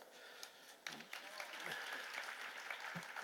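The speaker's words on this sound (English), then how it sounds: "So round of applause" Applause from a seated audience at a cross-cultural dialogue panel event, a soft wash of many hands clapping that swells and holds, fairly distant and quiet, with faint voices underneath.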